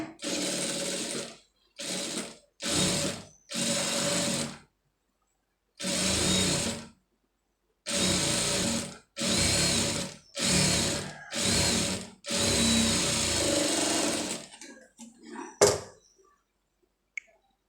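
A sewing machine stitches piping onto a sleeve in about nine close, loud bursts of rapid mechanical rattling separated by silent gaps, finishing with a few small clicks.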